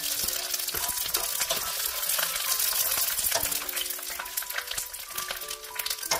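Pollock skin crackles and sizzles steadily as it fries in about one and a half cups of oil in a wok over medium heat, with occasional sharper pops over a dense hiss.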